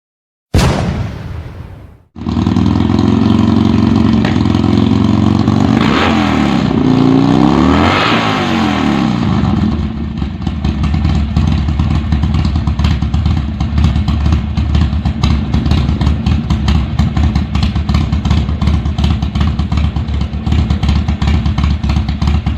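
A 2019 Roadster motorcycle with a retuned Fuelpak 3 unit fires up and rumbles loudly and steadily, swelling in a few revs early on before holding a constant throbbing idle throughout.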